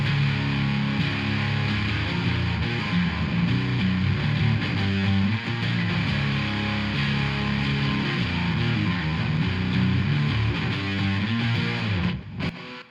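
Electric guitar driven through stacked fuzz pedals plus a Supernova drive with depth engaged, producing a thick, saturated wall of distorted riffing that stays loud and dense before cutting off abruptly near the end.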